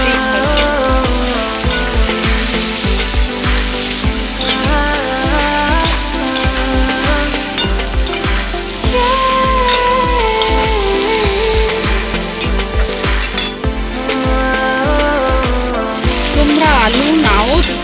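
Prawns fry in hot oil with mustard paste, a steady crackling sizzle that runs throughout with a melodic tune playing underneath.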